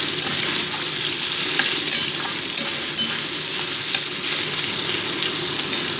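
Soybeans coated in salt and turmeric fry in hot oil in a pan, giving a steady, close, crackling sizzle with light stirring throughout and no voices.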